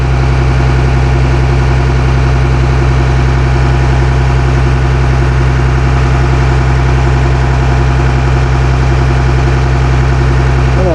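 A Cummins ISC 8.3-liter turbo diesel idles in a 2003 Blue Bird All American school bus, making a loud, steady, unbroken low drone with a constant vibrating hum and no voices.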